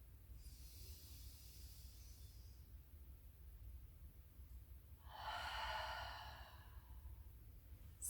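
Slow, deep breaths in a calm somatic breathing exercise: a soft airy inhale early on, a pause, then a longer, louder breathy exhale, close and alone against a quiet low hum.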